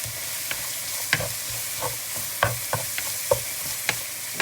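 Spice paste with ginger and garlic frying for a crab curry, with a steady close sizzle broken by sharp, irregular knocks and scrapes of a stirring spoon against the pan.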